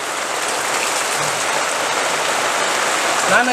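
Heavy rain pours down in a dense, constant hiss, loud and close throughout, with a faint voice briefly audible near the end.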